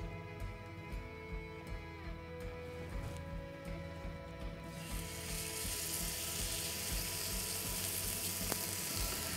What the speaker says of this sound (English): Check the pan for the heat, it's nice and hot and we're looking for a nice sizzle.